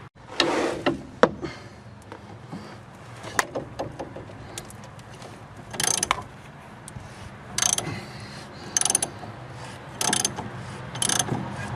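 A hand ratchet works a rusted pinch bolt during a ball joint replacement on a Sebring, giving bursts of sharp clicking pawl strokes separated by pauses, close and fairly loud with no talk.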